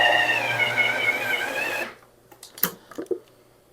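An electric mixer whirs steadily for about two seconds while mixing pie dough for mini Thanksgiving pies, then stops, followed by a few light clunks and taps of handling.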